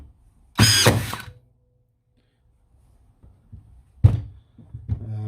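A Ryobi 16-gauge 18V cordless nail gun fires single shots into soft wood, with two sharp loud mechanical bursts, each a snappy thunk with a short whirring tail, separated by about three seconds of near silence.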